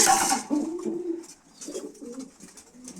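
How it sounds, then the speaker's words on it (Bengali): Pigeons of a breeding pair in a home breeding loft coo softly and repeatedly, close by, over a rustle of birds in the loft, with no talking. "দেন এই জায়গায় এক পেয়ার কবুতর আছে"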